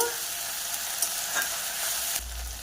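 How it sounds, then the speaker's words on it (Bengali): Ginger-garlic paste fries and sizzles in a pan while being stirred. A steady hiss runs throughout, with occasional scraping strokes and a louder clatter near the end. "আদা রসুন বাটাকে কিছুক্ষণ নেড়ে নেব"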